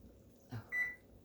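A single short electronic beep sounds from an oven timer button being pressed, preceded by a soft click, close and clear in a quiet room.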